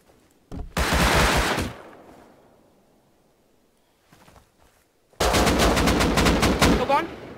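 Two loud, close bursts of rapid automatic gunfire in Rust, a short one followed by a longer sustained volley, separated by near silence with faint distant shots.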